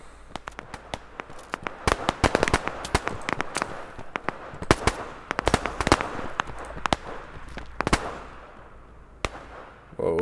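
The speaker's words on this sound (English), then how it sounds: "The deafening roar of gunfire" Rapid, sharp gunshot cracks from the video game Operation Harsh Doorstop fire in irregular bursts, loud and close, with brief quieter gaps between volleys.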